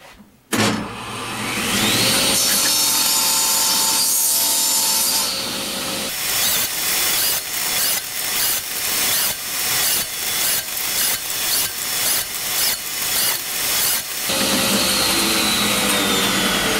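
Ipe wood segments being cut on a saw: a loud, steady machine whine at first, then a long run of rhythmic, pulsing cutting strokes, close and continuous with no talking.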